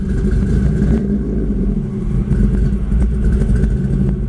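A 1949 Chevy pickup with a 610 hp LS3 V8 running close up: a steady, loud, rumbling idle with a few slight revs and surges, no talking over it.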